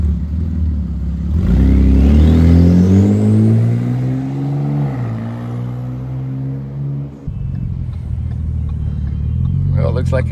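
A turbocharger on a Ford Flex EcoBoost engine swapped into a 2013 Taurus SHO, run with no exhaust fitted, whistles and whooshes loudly over the engine as the car accelerates, with the pitch sweeping upward before settling under the revving engine note.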